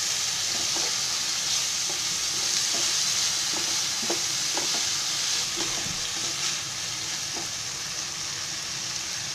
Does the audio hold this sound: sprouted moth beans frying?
yes